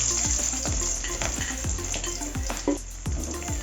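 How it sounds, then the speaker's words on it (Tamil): Small onions sizzle and fry in hot oil for a Tamil vendakkai puli kulambu, a steady close crackle with repeated stirring scrapes and clinks against the pan. "இப்போ நம்ம எடுத்து வச்சுருக்க சின்ன வெங்காயம் ஆட் பண்ணிடலாம்"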